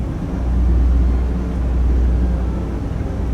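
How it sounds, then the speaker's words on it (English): Steady low engine rumble of aircraft droning overhead near Haneda Airport, heard from a boat on Tokyo Bay, continuous and moderately loud throughout, with no voices. "Listen to the sound of aeroplanes, I think."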